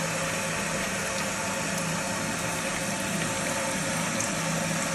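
Water rushes steadily into a toilet cistern through a newly fitted fill valve, a continuous broadband hiss and gurgle with a low hum, constant and close for the whole stretch, with no voices.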